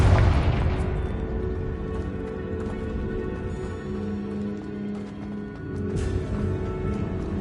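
A Confringo blasting spell in a wizard video game: a deep, loud boom at the start that rumbles and fades into a sustained low drone, with a second softer burst later on.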